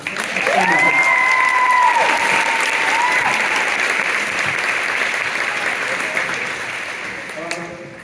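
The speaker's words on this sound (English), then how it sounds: "Can we give them a round of applause?" A school crowd applauds at a sixth grade winter concert, dense clapping swelling early then gradually thinning, with cheers and whoops rising above it near the start and a few voices heard toward the end.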